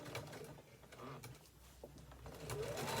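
A sewing machine back stitching elastic whirs faintly in short bursts, stopping and starting, with soft mechanical clicks and a rising whine near the end.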